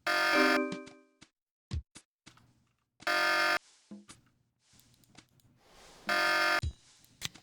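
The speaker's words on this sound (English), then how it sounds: "Sounds like I got that alarm turned off." Loud electronic alarm from the Tex Murphy: The Pandora Directive computer game, buzzing in three long harsh bursts at regular intervals, with scattered clicks and short tones in between.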